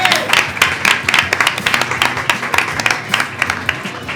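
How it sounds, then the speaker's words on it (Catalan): Short burst of applause and scattered clapping for a Catalan podcast host, dense and fairly close, lasting a few seconds with a faint voice underneath. "Un aplaudiment pel Pere."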